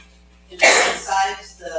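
Someone at a council meeting lets out a single loud, sharp sneeze with a breathy tail, and the sneeze is mixed with someone speaking.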